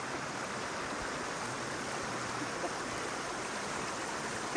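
Water pouring steadily over a stone Shiva lingam at a temple with a thousand lingams carved on one rock, a continuous soft splashing wash with no voices.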